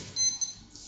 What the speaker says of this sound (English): That's my alarm to wake up.